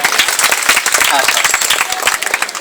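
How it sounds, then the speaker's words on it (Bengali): Schoolchildren clap for Bill Gates in a dense, loud burst of applause from a roomful of kids, with voices mixed into the clapping. "একটা হাততালি হোক বিলগেটসের জন্য"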